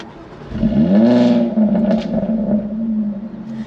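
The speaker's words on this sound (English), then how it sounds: "So foot on the brake, start the engine." A Jaguar F-Type convertible (X152) with a V6 fires up up close: a quick starter crank, then a loud rising flare of revs that settles into a steady, throaty idle, with no talking.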